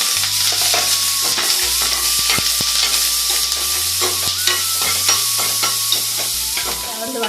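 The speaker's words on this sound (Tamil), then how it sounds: "வெங்காயம் கருவேப்பிலை போட்டுட்டு பூண்டு போட்டு நல்லா வதக்கிக்கோங்க" Onion, curry leaves and garlic sizzle loudly in a hot pan, with steady frying crackle and repeated stirring scrapes throughout.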